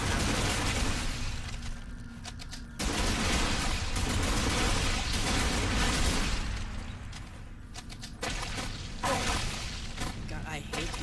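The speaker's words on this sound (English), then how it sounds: "Explosion things." Explosions and gunfire in the video game Lost Planet 3 form a dense, loud, continuous wash of bursts and booming blasts with a few brief lulls, busy and close throughout.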